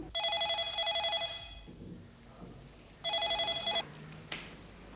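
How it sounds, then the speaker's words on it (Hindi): An indoor telephone rings loudly in two long bursts separated by a pause, with a softer thud and faint background noise between the rings. "अरे लक्ष्मी, राजू, वेंकी का फोन है।"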